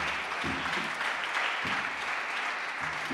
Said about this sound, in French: je vous prie d'applaudir Nicole Concordet